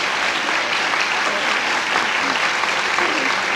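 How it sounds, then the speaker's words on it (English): A church congregation clapping during a 1974 Sunday morning service, a sustained, dense wave of applause from many hands, steady and fairly loud with faint voices mixed in. "You can clap."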